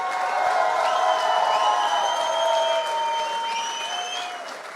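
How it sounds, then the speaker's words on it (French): An audience at the Festivals Awards ceremony at La Bellevilloise claps and cheers, a dense wash of applause with shrill whistles and whoops that slowly tapers off. "Un maximum de bruit pour Michael, s'il vous plaît"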